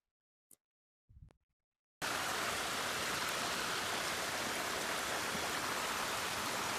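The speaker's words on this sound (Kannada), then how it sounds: "ನೀರು ಹರಿತಾ ಇರೋದೆಲ್ಲ ಸೌಂಡ್ ಕೇಳಿಸ್ತಾ ಇದೆ" Stream of flowing water along a walk near a waterfall by the NH75 highway rushes as a steady, loud wash of noise once it starts, after a couple of faint clicks and a near-silent opening.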